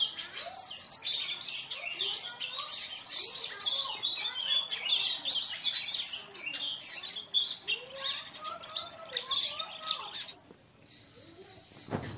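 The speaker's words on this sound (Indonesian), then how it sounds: "ini teman saya bawa burung sama burung kacer, dibuka" Two caged kacer (magpie robin) birds calling back and forth at close range, with bright overlapping chirps, whistles and warbling phrases that continue almost without pause.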